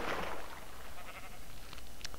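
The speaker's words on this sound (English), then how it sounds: "once you find the first sheep, you can find other sheep nearby" Sheep bleat in the video game Minecraft, a soft, somewhat distant bleat or two heard faintly over low ambient background noise, with no speech.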